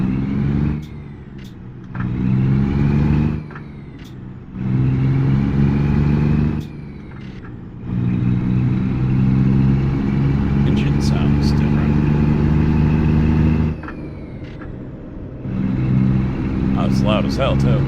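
Truck engine in a driving video game, a steady low droning rumble that swells and drops in volume several times as the truck drives, with brief clicks and sharper bursts on top.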